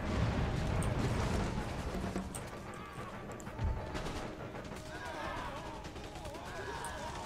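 Continuous musket volleys and artillery fire from an Empire: Total War battle crackle and thump densely throughout, with someone talking over the steady din of gunfire.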